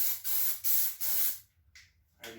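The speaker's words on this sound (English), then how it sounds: "So that looks about how it's going to spray" Plasti Dip aerosol can sprayed onto test cardboard in four quick close bursts of hissing spray, then a quieter pause and a softer final burst.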